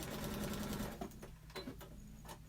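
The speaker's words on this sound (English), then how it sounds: "Try to sew on the line as much as you can." A sewing machine stitches a paper-pieced quilt block, first as a fast continuous whirring run, then as slower short bursts of stitching with brief pauses, close and fairly quiet with no talking.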